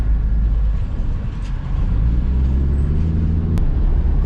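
An old car with worn, shot front suspension driving on the road, a loud continuous low engine and road rumble from inside the cabin, with a brief sharp knock near the end.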